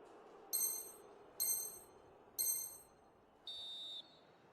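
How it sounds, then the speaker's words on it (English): A referee's whistle in an eFootball match, three short sharp blasts followed by one longer steady blast, clear against a quiet stadium murmur. "The players set, the whistle sounds,"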